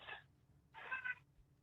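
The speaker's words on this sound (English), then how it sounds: "And that's my cat Spark saying hello." A pet cat gives two short, quiet meows indoors, the second one longer, with a soft hum in the background and no voices.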